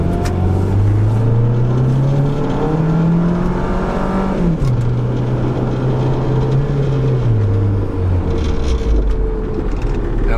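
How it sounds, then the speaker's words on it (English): 1997-2001 Honda CR-V driving on a road as its engine drones steadily, pitch rising through acceleration then dropping at a shift and slowing, a continuous close interior hum with road noise. "But I'm just driving around real quick."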